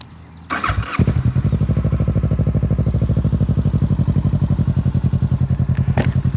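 A Kawasaki Z650 motorcycle cranks briefly and catches, then settles into a loud, close, steady idle with an even pulsing beat and a faint click near the end.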